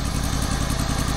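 A Wheel Horse 267H ride-on mower engine with a new exhaust system idles roughly with a steady, loud low chugging and uneven knocking pulses, close by and continuous.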